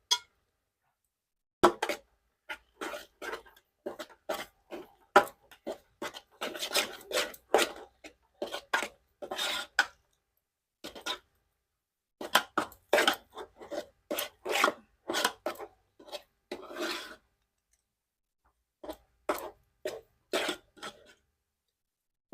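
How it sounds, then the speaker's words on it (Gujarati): Medu vada batter stirred and mixed in a pan, heard as repeated scraping and rubbing strokes in uneven bursts with short pauses, close and fairly quiet. "એકદમ આપણે મિક્સ કરી નાખશું"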